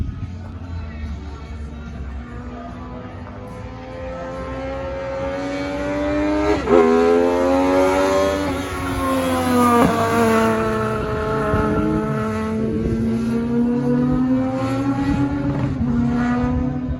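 A race car runs practice laps at Magic Valley Speedway, its engine droning steadily from inside the car, then revving up and down through gear changes with rising and falling pitch, loud and continuous throughout.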